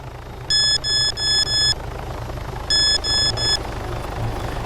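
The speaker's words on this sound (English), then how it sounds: "As you just heard, that is the sound of the fish being on the line." Electronic fish-on-the-line alert in City Life 3: two bursts of rapid, evenly spaced high-pitched beeps, four pulses then three, clear and loud over a steady low background hum.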